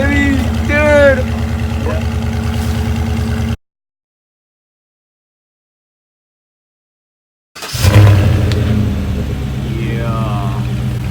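The engine of a rebuilt 2016 Chevrolet Silverado Special Edition pickup idles with a loud, steady rumble under excited voices, breaks off to silence for several seconds, then returns running strongly.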